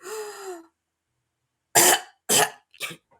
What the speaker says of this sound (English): and you cough it out